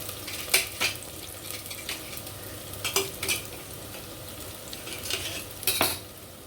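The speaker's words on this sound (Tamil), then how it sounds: "வெங்காயம் வதங்கிச்சு தக்காளி போட்டுடலாம்" Onions sauté in a pan for a fish curry, giving a soft steady sizzle broken by repeated scraping and clinking stirs of a utensil against the pan, close and fairly quiet with no talking.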